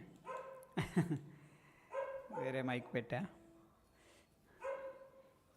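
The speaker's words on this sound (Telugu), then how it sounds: "కుక్కలు ఇక్కడ గొడవ చేస్తున్నాయి." Dogs bark near someone talking into a microphone, giving a couple of sharp, brief barks that are partly masked by his steady speech.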